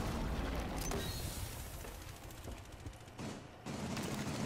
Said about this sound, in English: I shot the shit out of somebody, I don't know who.